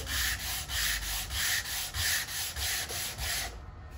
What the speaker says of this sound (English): go with the grain of the wood every time you're sanding